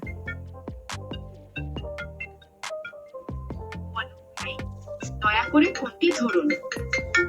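A custom name ringtone plays on a phone: a melodic tune of plucked electronic notes, with a synthesized voice announcing a name over the music toward the end, close and clear.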